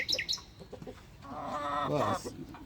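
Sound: chickens clucking

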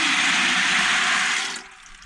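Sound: dried peas being poured into water

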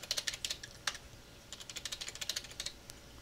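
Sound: typing a password on a computer keyboard

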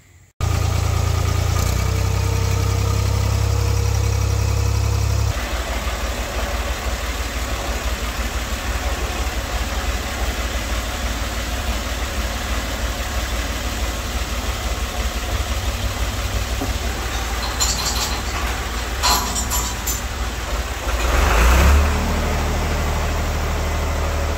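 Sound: tractor engine running

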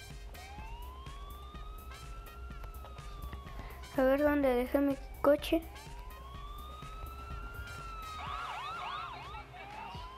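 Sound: police car siren in video game Grand Theft Auto IV

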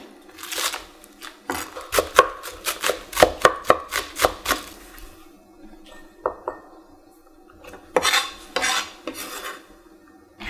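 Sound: chopping green onion with a knife

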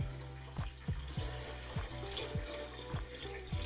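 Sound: water being poured into a pressure cooker pot

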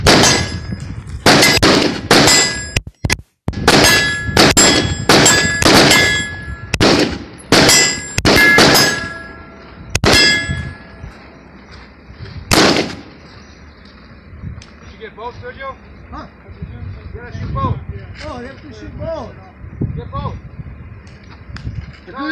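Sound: gunshots hitting steel targets at night training

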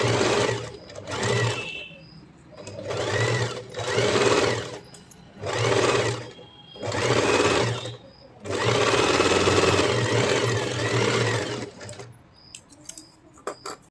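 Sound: sewing machine stitching blouse neckline and waist

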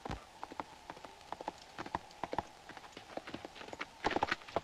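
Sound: horse hooves clip-clopping

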